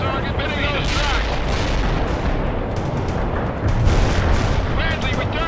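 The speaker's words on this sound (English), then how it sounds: "Bradley returning fire and engage the target." A Bradley APC firing in the World in Conflict video game, heavy booming cannon fire and rumbling blasts in a dense battle din, with voices talking over it.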